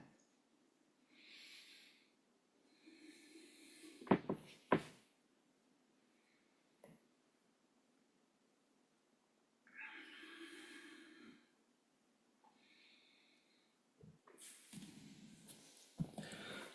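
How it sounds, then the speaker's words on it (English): Slow nasal breathing during a yoga session for extending the spine, with soft in-and-out breaths and snorty exhales recurring close up between quiet pauses. "Breathing in through the nose and out through the nose,"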